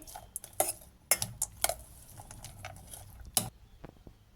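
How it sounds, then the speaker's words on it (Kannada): Churumuri ingredients with peanuts being mixed in a bowl, a run of sharp spoon clinks and scrapes against the dish, irregular and close, fading to softer rustling toward the end. "ಈಗ ಇದನ್ನು ಎಲ್ಲ ಒಂದು ಸರ್ತಿ ಮಿಕ್ಸ್ ಮಾಡ್ಕೊಳ್ಳೋಣ"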